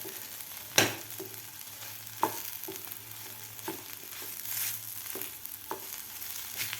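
Potato thecha is sautéed in a pan, with a soft, quiet sizzle under intermittent spatula scrapes and taps, one sharp knock standing out early.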